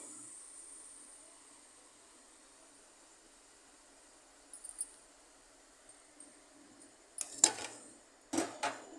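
Nimki frying in hot oil give off a faint, steady sizzle, broken near the end by a few sharp metallic clinks and scrapes as a utensil stirs them in the pan.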